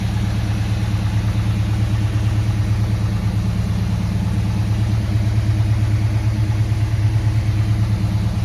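A 1969 Dodge Super Bee with the 440 Six Pack V8 idling steadily, a loud, close, continuous low rumble that holds even throughout with no voices.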